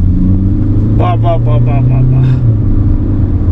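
Engine of a 2024 Hyundai Creta in sport drive mode, heard from inside as a steady low rumble that swells slightly, with a brief voice-like tonal burst partway through.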